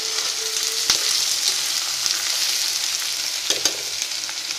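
Garlic cloves, green chillies and ginger frying in a small amount of oil for a homemade pickle, giving a steady close sizzle with occasional stirring clicks and scrapes throughout.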